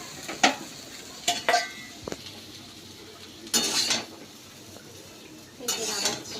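Fried potatoes lifted out of a pan with a metal utensil, several sharp scraping clinks and clatters in bursts against faint background sizzle, close and fairly loud.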